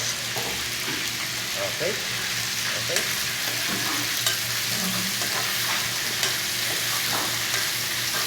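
Onion and garlic fry in a pan for a restaurant-style Nepali chicken curry. A steady sizzle is stirred now and then with scraping clatter, and a voice speaks once briefly over the cooking.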